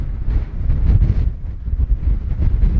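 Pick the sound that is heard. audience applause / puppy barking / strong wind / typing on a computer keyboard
strong wind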